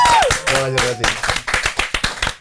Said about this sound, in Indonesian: Langsung saja kita tepuk tangan untuk Bang Furkon